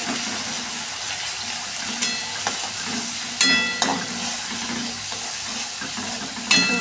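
Mutton cooking with spices in oil, a soft steady sizzle with occasional sharp clinks of a spatula against the pot, moderately close and fairly quiet, no talk.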